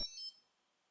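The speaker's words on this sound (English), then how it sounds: "the JamCorder will wake up as well, emitting a short beep sound to signal it's there" A single short, bright electronic startup beep from a JamCorder MIDI recorder, with a high, clean pitch, fading quickly into near silence.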